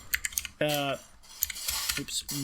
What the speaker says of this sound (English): I'm still getting used to typing this thing.